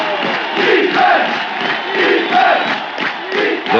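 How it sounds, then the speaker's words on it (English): A football stadium crowd at a New York Jets game chants "Defense!" in loud, rhythmic bursts roughly every second, a massed roar of many voices with no single speaker. "The crowd lent its voice. Defense! Defense! Defense!"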